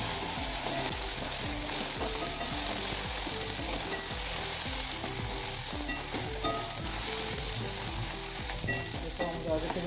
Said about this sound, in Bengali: এবং এটা মশলাটার সঙ্গে নাড়তে থাকবে।